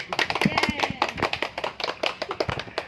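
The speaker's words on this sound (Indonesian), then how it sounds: "kita tepuk tangan bersama" A group claps hands together in rhythm during a community training session on stunting prevention, the claps crisp and close with voices chanting and talking over them.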